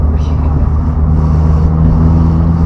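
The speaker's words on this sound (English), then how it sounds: "See, that's the sound I was looking for when I originally did the whole exhaust system upgrade." A Mazda MX5 fitted with an upgraded Malian exhaust system gives a loud, steady, deep exhaust drone while driving, continuous through the whole stretch.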